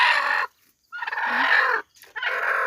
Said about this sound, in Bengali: আজকে আবার কিছু মুরগি বাচ্চা ফুটছে।